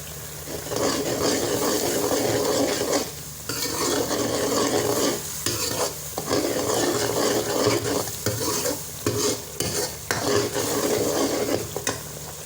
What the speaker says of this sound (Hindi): तो मसाला यहाँ भून चुका है